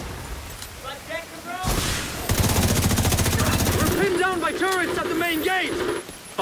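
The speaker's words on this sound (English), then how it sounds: "Turrets at the main gate!" Gun turrets fire at the main gate in The Division 2, a loud, continuous rattle of shots mixed with other battle noise while voices talk over it.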